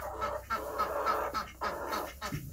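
Ducks honk and quack in short, repeated calls close by, fairly faint, with no talking.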